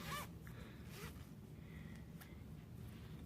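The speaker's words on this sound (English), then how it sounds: "I'm able to zip it closed" A zipper being drawn shut on a small mesh laundry bag gives a few quiet rasping strokes that taper into a faint low background hum, with no talking.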